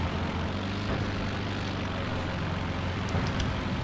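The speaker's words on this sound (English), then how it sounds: "I thought that plane was going to crash" A propeller aircraft drones overhead in the Company of Heroes 2 video game, a steady, low engine rumble that holds throughout at moderate loudness.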